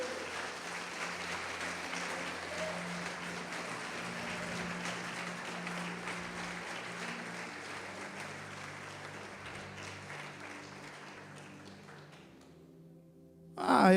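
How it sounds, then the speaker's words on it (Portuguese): A church congregation applauds in a long, steady wash of clapping that slowly fades, with a brief louder burst at the end. "Pode aplaudir Jesus."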